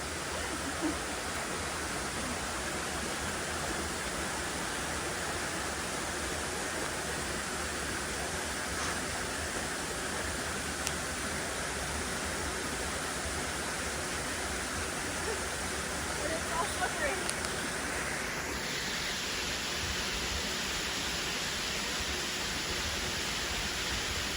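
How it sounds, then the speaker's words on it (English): Maunawili Falls on a Hawaiian hiking trail roars steadily, an unbroken broadband rushing of falling water that fills the whole stretch at a constant, fairly loud level. "Waterfall's behind you."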